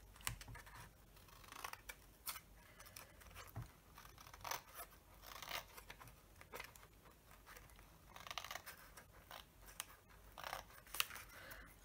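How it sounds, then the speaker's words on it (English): Scissors snip off the excess of a wrapped strip for a test tube shadow box craft, a series of short, quiet cuts and scratchy rustles spread irregularly across the moment, with no talking. "That's slightly over, so you would just cut that off"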